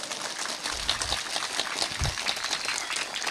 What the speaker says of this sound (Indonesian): tepuk tangan sing banter,